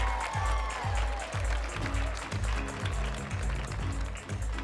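Audience applause at a university apparel design fashion show, sustained clapping from a crowded room mixed with rhythmic low thumps from runway music.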